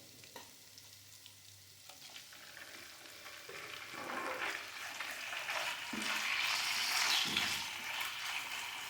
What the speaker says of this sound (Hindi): इसे हम बस हल्का सा फ्राई करेंगे कि इसका कलर पिंक से वाइट हो जाए।